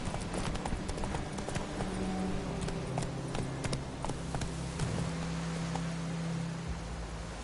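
Roach, a horse in The Witcher 3 video game, gallops with a steady, rapid clip-clop of hoofbeats that runs the whole way through, close and continuous over a soft rain-like ambient wash.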